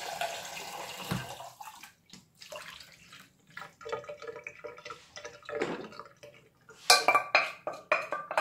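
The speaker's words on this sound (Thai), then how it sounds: "นะคะเราก็น็อกด้วยน้ำเย็นนะคะ" Cooked ingredients for Thai green curry rinsed under cold running water, with splashing and pouring, intermittent clinks of a pot or bowl, and sharper metallic knocks near the end, all close by.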